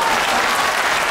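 Loud, dense applause from a large crowd at an outdoor development rally (Vikas Yatra) in Golaghat, Assam, a steady wash of clapping filling the whole moment without pause.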